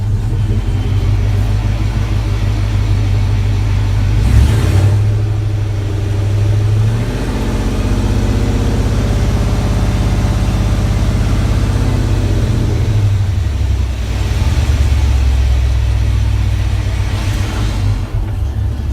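A Studebaker pickup rat rod engine runs continuously in drive with a deep, steady rumble, swelling a few times as it revs before settling back to a low hum.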